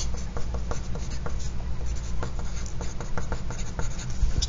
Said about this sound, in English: So please join me as we write our name and the date on our paper.